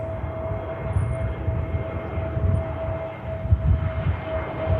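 An easyJet A320neo airliner landing at Manchester Airport, its engines giving a steady broadband roar with a thin sustained whine, the rumble swelling and easing slightly as it passes close.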